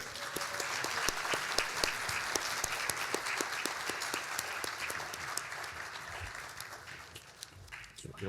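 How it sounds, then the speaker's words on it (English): A business audience at a mayor's State of the City address in Richmond Hill gives sustained, dense applause from many hands in a hall, steady and fairly loud before tapering slightly near the end. "let's have a loud round of applause for the voice of business for Richmond Hill"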